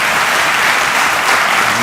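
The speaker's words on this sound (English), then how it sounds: "Let's applaud her." Audience at an inaugural university lecture breaks into steady, dense applause, loud and close, with no talking over it.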